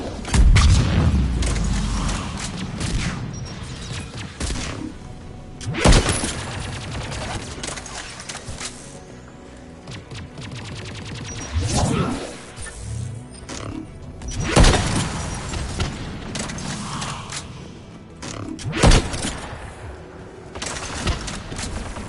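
Geth anti-aircraft guns in Mass Effect 3 firing heavy booming shots at spaced intervals, each one a loud thud with a mechanical clank, over a low rumbling battlefield background.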